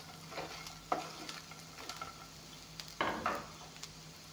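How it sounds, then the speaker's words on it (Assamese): A spatula stirs beans and bay leaves frying in a pan, with scraping strokes and metal clinks over a soft, steady sizzle, in a few bursts separated by quieter gaps. "বিন, তেজপাত একেলগে ভাজি লোৱাখিনি ধুনীয়াকৈ ইয়াতে দি দিম একেলগে"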